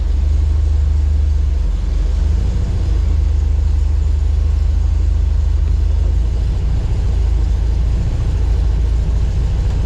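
A 1973 VW Thing's air-cooled engine idles as a loud, steady low rumble while the driver forces a worn gearbox into reverse, with no clear grind standing out above the drone.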